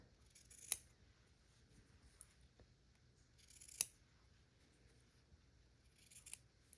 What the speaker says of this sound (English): just trim this away with scissors